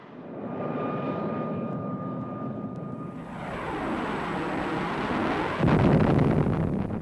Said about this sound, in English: a new sound dominated the skies over Korea: jet engines